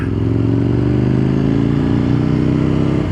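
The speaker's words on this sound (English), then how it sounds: "This is a very big thumping V-twin" A big Aprilia V-twin motorcycle engine thumps loudly and steadily up close, with a deep, lumpy idle rhythm throughout.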